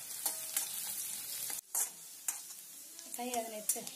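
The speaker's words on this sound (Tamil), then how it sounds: "இப்போ சைடில் வந்து பூண்டு வந்து நல்லா பொரிஞ்சு வரணும்." Chopped garlic fries in hot oil in a pan while a spoon stirs it, giving a steady close sizzle with a few scraping strokes against the pan and brief clinks near the end.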